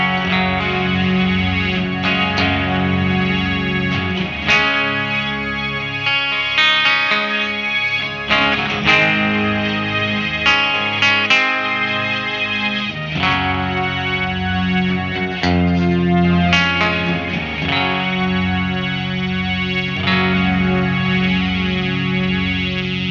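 Electric guitar run through a Boss SY-1 guitar synthesizer in its slow-attack ethereal mode, the clean dry guitar blended in at about half level, giving swelling, sustained synth chords with chorus-like shimmer and reverb, played continuously and alone.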